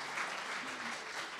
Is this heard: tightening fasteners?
no